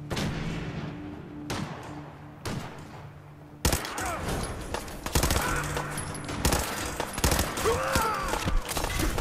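Gunfire in Fallout 4, with a few isolated shots early, then a sustained loud barrage of rapid shots and impacts continuing without pause.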